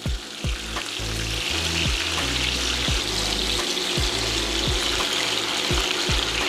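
Chicken browning in a pan for smothered chicken and gravy gives a steady loud sizzle, with a series of low knocks and thuds spaced through it as the pieces are flipped over.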